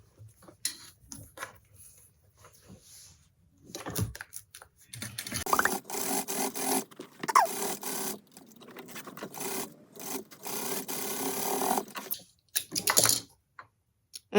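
A sewing machine stitches over a zipper welt in drapery fabric, running in irregular bursts of rapid mechanical clatter separated by short pauses, close and moderately loud.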